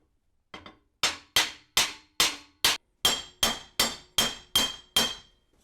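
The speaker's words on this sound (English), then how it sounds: "Helps to use a brass hammer." A brass hammer taps a steering rack seal into place on a BMW E46 with about eleven sharp metallic blows in an even rhythm, close and clear, with nothing else heard.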